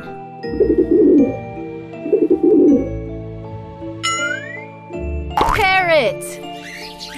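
A pigeon coos in two low, soft rolling phrases, followed by a spoken word and bright chirpy tones over a faint musical backdrop.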